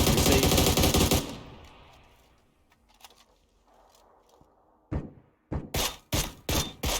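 Gunfire in a competitive video game match: a dense burst of rapid shots at the start, then a quiet stretch, then a string of sharp, loud shots and short bursts near the end.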